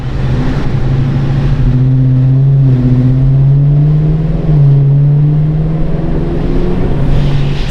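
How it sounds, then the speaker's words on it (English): LSA V8-swapped Honda S2000 accelerating, its supercharged V8 exhaust droning loud and close with a steady low rumble that climbs gradually in pitch through the pull, no talking over it. "I love the exhaust on these things."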